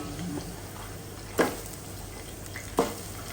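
Garlic and ginger paste added to hot oil in a pan: a low, steady frying hiss, with two brief sharp sizzling or clattering bursts close by.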